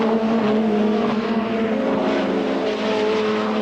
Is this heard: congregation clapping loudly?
no